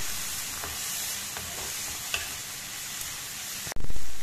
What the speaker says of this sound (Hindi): अब हम इसके अंदर डालेंगे टमाटर और तब तक चलेंगे जब तक कि हमारे टमाटर सॉफ्ट नहीं हो जाते।